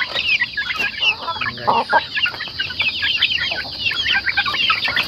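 Young Rhode Island, brown neck and light Sussex chicks cluck and peep continuously in a busy, overlapping chorus close by, with a person speaking briefly among them.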